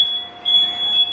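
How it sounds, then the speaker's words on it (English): A kitchen smoke alarm blares a loud, steady high-pitched electronic tone, set off by smoke from an oven left on at 500 degrees. "I set off the fire alarm"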